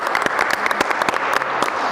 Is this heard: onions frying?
no